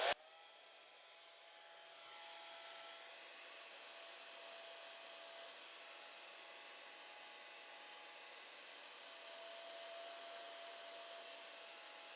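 A hair dryer blows steadily on a watercolor painting of a colt, a constant whirring hiss with a faint motor whine, starting with a click and slightly swelling in strength, close and alone.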